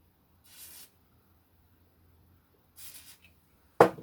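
Two short hissing sprays of lubricant from an aerosol can onto a garden tool's wheel, separated by a pause, followed by a sharp click or knock at the end.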